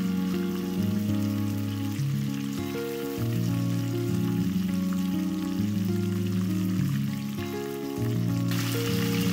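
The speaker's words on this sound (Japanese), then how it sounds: "あとは170度に温めた油で揚げていきます。" Large pieces of karaage chicken deep-frying in oil heated to 170 degrees, giving a steady, dense sizzle and crackle that carries on throughout with no talking, alongside a faint, even background tone.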